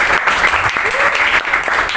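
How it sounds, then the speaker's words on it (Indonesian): Young people at a community party event break into applause, a dense, loud burst of many hands clapping close by, with a bit of voice faintly mixed in. "Yang mengerti, yang paham maksudnya boleh tepuk tangan dulu dong."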